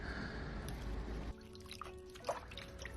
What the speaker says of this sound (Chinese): 再准备一根青蒜苗，把根部掐掉不要，然后也放入水中一起清洗干净